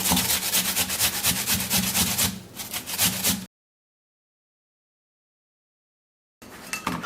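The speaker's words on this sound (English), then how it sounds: "So I'm going to be grating the potato." Potato being grated by hand, a steady scraping rasp of repeated strokes close by, which stops abruptly for about three seconds of silence before the scraping resumes.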